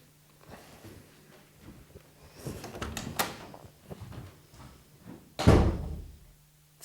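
A drawer is pulled open and pushed shut in a comedy sketch, giving a few soft rattles and scrapes that end in a loud close-up slam.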